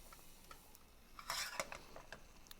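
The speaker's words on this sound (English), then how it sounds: "I'm going to add in half a cup of flour. We're going to mix that in. We're going to make a roux." A spoon stirs flour into melted butter in a pot over medium heat, making a roux for chicken and andouille sausage gumbo. Soft scraping and light clinks sit over a quiet background, with a brief louder burst of stirring midway.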